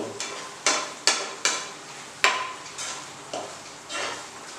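Spoon strokes scrape and clink against a pot in a steady series, over a soft, continuous sizzle of tomato masala simmering on low heat for biryani.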